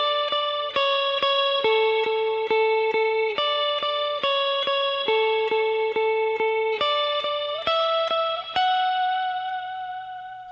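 Electric guitar played slowly with clean effects, picking single sustained notes of a walking melodic line up the neck, each note ringing into the next with a steady pulse, alone and close.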